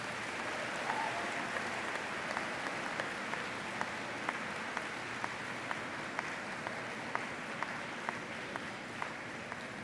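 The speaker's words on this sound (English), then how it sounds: "please rise and give a round of applause and appreciation of those that supported you through the educational process" Sustained audience applause at a university summer commencement, a large crowd clapping steadily for about ten seconds with scattered louder claps, no speech over it.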